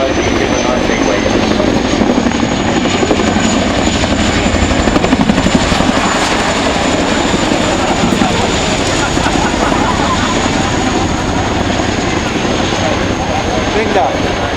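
An RAF Chinook twin-rotor helicopter flies at the Waddington Airshow in 2011, its loud, steady rotor thump and engine whine filling the whole stretch, close and unbroken.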